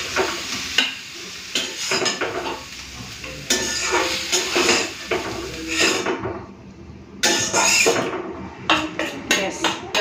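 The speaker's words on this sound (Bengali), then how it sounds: "তারপরে মাছের ঝোলটা বাটিতে ঢেলে নেব" Fish curry is poured from a pot into a bowl in a home kitchen, with repeated close clinks and scrapes of pots, dishes and a spoon, loud and irregular, and little talk.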